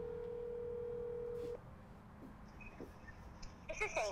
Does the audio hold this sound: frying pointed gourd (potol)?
no